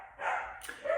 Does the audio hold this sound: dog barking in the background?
yes